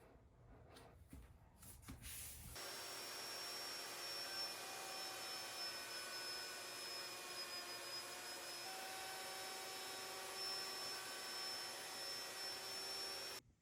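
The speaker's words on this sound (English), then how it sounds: "I can easily route the edge" A router fitted with a straight bit starts up and spins steadily while routing the edge of an MDF template, a sustained high-pitched whine and rushing hum that holds evenly after a few soft knocks at the start.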